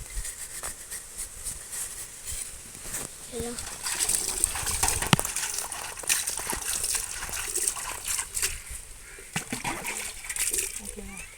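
Water runs and splashes while a brass vessel is washed by hand, a close, uneven stream with sloshing and dribbling; someone talks throughout.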